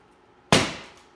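A single close air rifle shot fired through an FSV regulator: one sharp, loud crack that decays over a fraction of a second, with no other sound around it.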